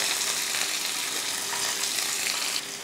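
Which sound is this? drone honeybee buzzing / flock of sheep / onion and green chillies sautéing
onion and green chillies sautéing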